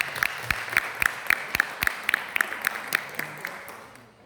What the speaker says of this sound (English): we clap for them.